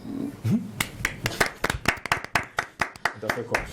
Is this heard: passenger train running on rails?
no